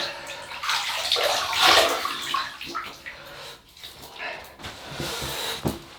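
Water runs and splashes at a bathroom basin for wetting the face before a wet shave, a steady broadband rush that swells and ebbs near the tap, with brief louder splashes.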